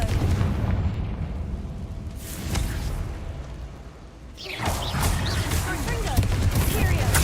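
Spell blasts from the Confringo fire spell in Hogwarts Legacy, with loud bursts and crackling booms over a busy combat din. A voice speaks briefly near the blasts.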